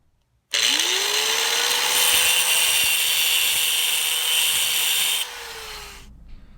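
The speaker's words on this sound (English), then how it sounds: "I am going to use an angle grinder with a cutoff wheel for speed and simplicity. Let's cut the slot." An angle grinder with a cutoff wheel cuts a slot into a damaged screw head, spinning up with a rising whine and then holding a loud, steady, harsh grinding hiss for several seconds before it winds down.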